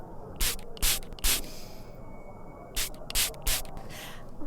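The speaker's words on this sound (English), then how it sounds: "I had this spray specially made." Several quick spray bottle bursts, three in a row, a pause, then three more, each a short sharp hiss close by.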